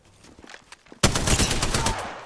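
Sudden loud burst of rapid gunfire in Apex Legends, several weapons firing at once after a quieter stretch of footsteps and movement, sustained and close until the end.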